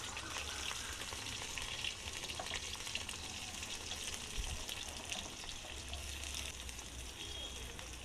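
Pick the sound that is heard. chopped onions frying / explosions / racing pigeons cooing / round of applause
chopped onions frying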